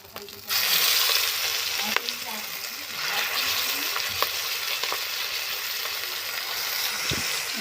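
Ground ginger, cumin, chili and mustard paste hits hot oil with bay leaf, starting a loud sizzle that continues while a utensil scrapes and stirs with sporadic clicks against the pan.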